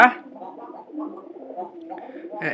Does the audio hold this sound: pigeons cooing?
yes